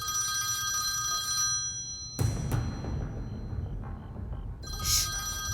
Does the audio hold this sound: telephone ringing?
yes